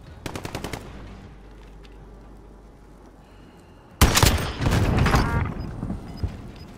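Video game gunfire snaps out as a quick burst of rapid shots, then goes quiet before a louder, heavier sustained volley erupts close by.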